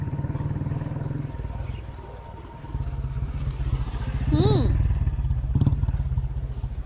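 A motorcycle engine rumbles steadily in a scene from a Hindi-dubbed South Indian film, a continuous mid-low drone that swells slightly toward the end, with dialogue spoken over it.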